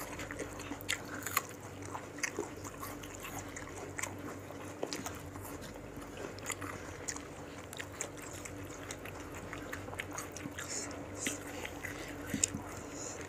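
Someone eats rujak, a fruit salad with spicy sambal, producing close, repeated crunchy bites and chewing in a quiet setting, with no talking.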